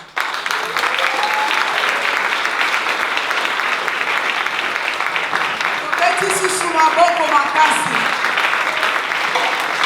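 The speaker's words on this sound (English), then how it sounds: "Give a good round of applause." Loud, sustained applause from an audience following a drama presentation, steady clapping filling the whole stretch with a slight swell near the end.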